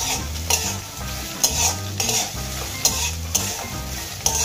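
Prawn heads frying with garlic and dried chillies in hot oil, a steady close sizzle broken by rhythmic stirring scrapes roughly every second, with no voices.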